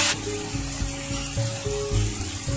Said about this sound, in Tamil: வெங்காயம் வந்து நல்லா வதங்கணும், அப்போதான் வந்து நல்லா இருக்கும்.